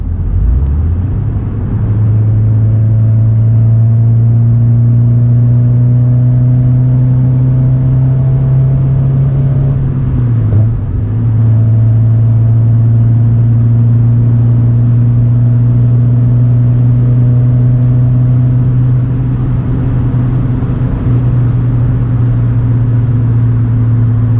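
A Ford ST engine revs loudly and steadily under load during a dyno pull, pitch climbing gradually with a brief dip midway, then holding a sustained high drone.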